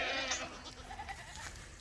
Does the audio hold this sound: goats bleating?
yes